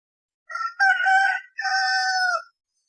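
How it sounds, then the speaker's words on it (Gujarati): A rooster crows once, loud and close, a single multi-part cock-a-doodle-doo that rises, holds, and breaks off in clean silence. "કૂકડો બોલે"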